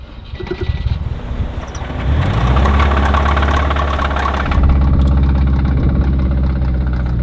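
A damaged Subaru engine idles roughly with a heavy, rhythmic knock, starting quieter and then swelling louder and closer as it settles into a steady, uneven thumping rumble with no talk.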